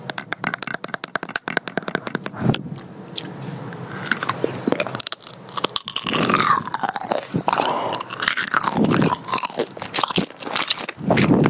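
Someone bites and chews strawberry tanghulu, its hard candy shell cracking in sharp crunches followed by rapid crackling and wet chewing, recorded very close in ASMR style with no talking.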